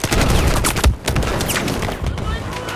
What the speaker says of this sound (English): Okay, I'll use my pistol.